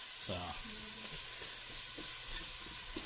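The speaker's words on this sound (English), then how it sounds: "So we're just gonna saute this and let it simmer a little bit." Pork nilaga ingredients sauté in a pot, giving a steady bright sizzle with scraping stirs throughout.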